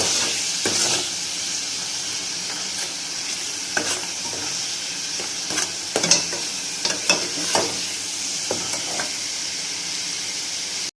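Turmeric and ground coriander sizzle in a hot pan while a spoon scrapes and stirs in irregular strokes, close by and with no talking.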